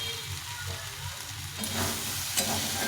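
Soybean chunks and vegetables sautéing in a pan, a steady close sizzle and fry hiss that swells louder after a stir partway through, with faint clinks of a spoon.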